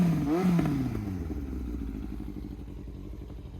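A Yamaha R1 motorcycle fitted with a race can exhaust gives one quick, loud rev that rises and falls, then settles into a lumpy, rhythmic idle, close to the listener.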